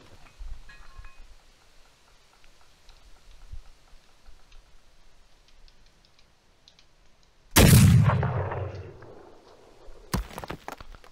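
Revolver gunfire in the Old West survival video game Heat: quiet ticking and clicks, then one loud shot with a long echoing tail, and a second sharp shot a few seconds later.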